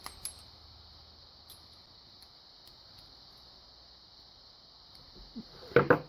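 A brief metallic clink and jingle of keys for a lock comes near the end, close and fairly light, after several seconds of near silence with a faint steady hiss.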